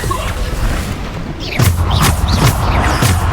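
Bombarda blasting spell cast in a wizard dueling video game: several sharp, booming bursts in quick succession, loud and close, with brief vocal calls between them.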